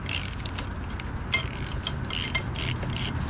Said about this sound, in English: let's see if I can get a real socket on there